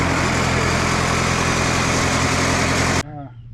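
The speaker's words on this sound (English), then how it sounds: "This is a fully hydraulic sawmill. So you fire it up and" Diesel engine on a fully hydraulic sawmill running loud and steady for about three seconds, then cutting off abruptly, leaving a low quieter rumble.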